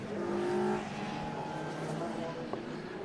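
Touring cars from the Thunder and BOSS classes idle along a formation lap behind the pace car at Donington Park, a steady, moderately distant engine drone with a brief sharper note near the end.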